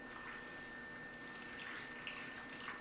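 Hot water heated in a microwave is poured into a pan of ground puppy food weaning mixture, a steady continuous splashing pour with a faint background hum and no talking.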